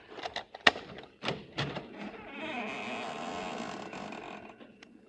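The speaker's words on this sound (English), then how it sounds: "Well, we've opened the front door now. Maybe you heard the hinge squeak a little." A front door swings open on a squeaky hinge, with a few clicks and knocks of the latch before a drawn-out creaking groan, close and moderately loud with no talking.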